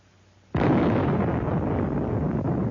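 Sudden loud blast from a 1952 Operation Tumbler-Snapper nuclear test, a sharp onset followed by a sustained rumbling roar that keeps going without fading.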